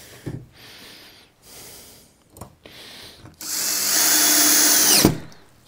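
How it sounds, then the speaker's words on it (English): A power drill driving screws into a wooden board held by a guide rail in a woodworking shop, a few short quiet handling and drill bursts followed by a sustained loud whirring drive that stops abruptly. "I want to put some screws in this"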